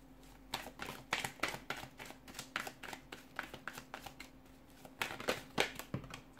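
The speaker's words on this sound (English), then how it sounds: "give the cards a shuffle" Tarot cards being shuffled in quick bursts of crisp riffling and flicking, close up, with short pauses between rounds; no voices.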